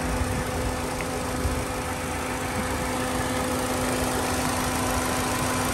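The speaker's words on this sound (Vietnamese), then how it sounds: "khoang máy động cơ đấy. Các bác nghe tiếng nổ êm chưa?" A 2015 Ford Fiesta 1.5 automatic's engine idles smoothly and steadily at close range, a constant low hum with no other sounds.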